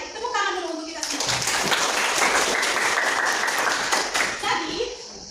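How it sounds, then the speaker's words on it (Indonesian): A classroom of children claps together, a dense burst of many small hands rising abruptly and holding steady for about four seconds before tapering off, with voices audible just before and after. "Tepuk tangan dulu untuk kita semua."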